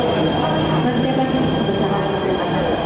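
An MRT subway train runs at Lebak Bulus station in Jakarta with a loud, continuous rumble and a steady high whine from the wheels and motors, close by, while voices are faintly present underneath.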